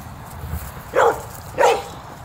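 Dogs bark excitedly near the house while being walked, with two short barks spaced about half a second apart over quiet outdoor background.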